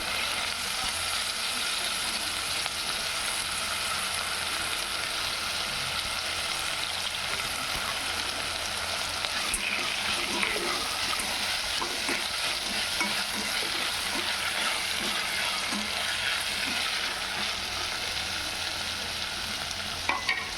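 Carrots, onion and soaked peas frying in a pan for veg biryani, a steady close sizzle with scraping stir strokes running throughout, no talk.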